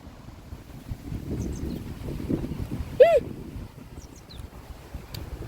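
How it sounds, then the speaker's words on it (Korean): Strong wind buffets the microphone outdoors on Cheonsaengsan mountain, a low rumbling roar of gusts that runs throughout, with a brief high chirp rising above it midway. "진짜 바람이 너무 많이 불어"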